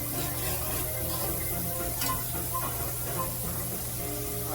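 Onion softening in a pot for a homemade autumn stew gives a steady, even sizzle with soft stirring scrapes throughout, close and continuous, with no talking.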